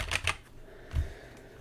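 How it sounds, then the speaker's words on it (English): Typing on a computer keyboard while setting up a new game launcher app: two quick clicky bursts at the start, then one softer thump after a pause, close and fairly quiet, with no voice. "I hope the keyboard sound doesn't suck too much."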